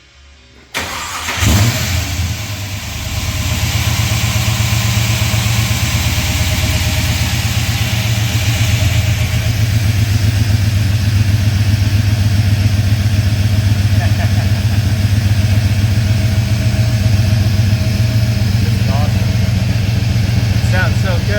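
A Chevrolet S10 muscle truck engine fires up with a sharp catch, then settles into a loud, deep, lumpy idle that rumbles steadily close by, with voices talking over it now and then.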